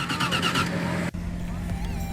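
A turbo LS Fox body's starter cranks in quick rhythmic bursts, then cuts off abruptly, leaving a low idle-like hum and faint background noise, close and moderately loud.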